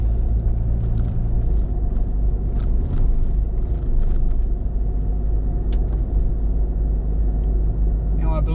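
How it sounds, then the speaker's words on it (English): Steady low road rumble of a car driving down an old World War II airstrip in outback Australia, continuous and close throughout with no spoken words over it. "I'm driving down the old World War II airstrip,"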